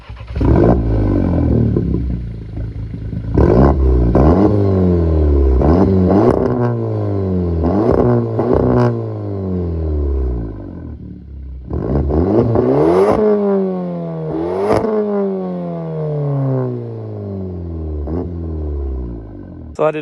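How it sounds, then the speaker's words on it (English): A 2015 Volkswagen Polo GTI 6C with its 1.8 litre engine revs repeatedly, the exhaust climbing and falling in a series of loud pulls with short pauses, a deep rich tone close by and no talking over it. "the exhaust tone is really good"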